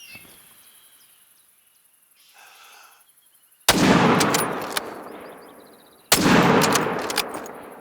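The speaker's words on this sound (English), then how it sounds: "I need to stop shooting." Two loud rifle gunshots in The Hunter: Call of the Wild, each a sharp crack followed by a long rolling echo through open terrain, spaced about two seconds apart after a quiet stretch.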